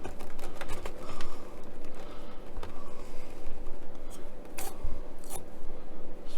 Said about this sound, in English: Let's remove that masking tape